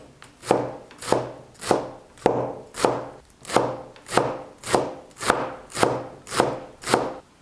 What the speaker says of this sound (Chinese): 一把洗净控干水分的韭菜切碎。